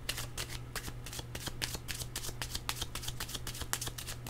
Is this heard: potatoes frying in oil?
no